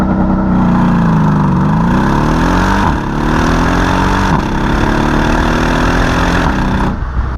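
A big V8 in a Mercedes E63 AMG sport sedan on stock exhaust, idling loud and close with a deep steady rumble, then blipping the throttle in several rising revs that drop back to idle.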